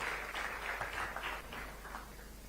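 Audience applause at a teachers' honour ceremony, a steady wash of many hands clapping at moderate distance, sustained through the moment without voices on top.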